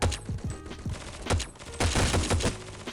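Pistol shots in the shooter game Forward Assault, during a gun game match: a rapid run of sharp, punchy reports in quick bursts, close and loud, with no talk.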